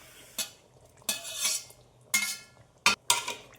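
A spoon scrapes and stirs through a pot of meat curry with fried potatoes in a few separate bursts, with quiet pauses between the strokes.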